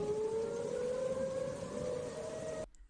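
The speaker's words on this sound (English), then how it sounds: "the tornado sirens sound" A tornado civil defense siren wails as one sustained rising tone, heard steadily from a distance over background noise before cutting off abruptly near the end.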